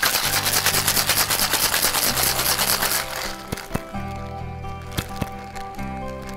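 A cocktail shaker full of ice shaken hard for a Mai Tai, loud rapid rhythmic rattling for about three seconds, then a few sharp knocks and clinks as it stops.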